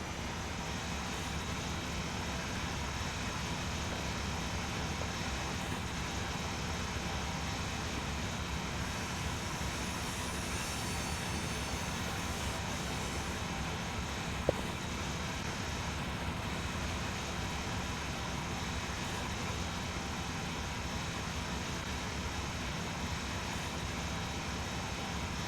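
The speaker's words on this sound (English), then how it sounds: "Now let's get this train out to Salem." A locomotive engine in the Train Sim Pro USA game setting out toward Salem, a steady low drone with a constant rumbling hum and no changes in level, alone and fairly quiet.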